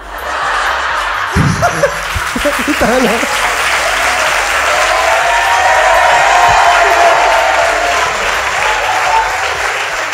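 Comedy show audience in Barcelona bursts into loud, sustained applause with scattered laughter and cheers, a thick roar of clapping; a brief voice is heard near the start.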